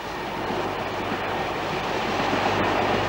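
The Ghan passenger train running on the standard gauge railway near the Flinders Ranges between Port Augusta and Marree, a steady close rolling rumble with rail clatter throughout.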